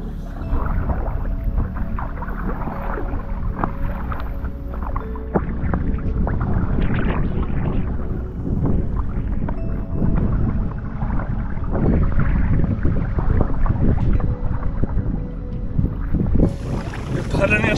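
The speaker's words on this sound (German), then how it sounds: "Wir paddeln jetzt schon seit einer ganzen Weile gegen den Wind." A canoe is paddled against the wind on Lake Saimaa during a multi-day canoe tour, with loud continuous wind rumble against the microphone and water swishing from the paddling throughout.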